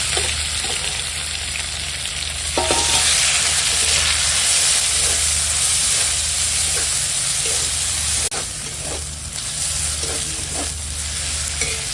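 Grated raw mango frying with spiced tempering and turmeric-stirred lentils in a pan for a tangy dal, a steady loud sizzle with stirring scrapes throughout, no voices.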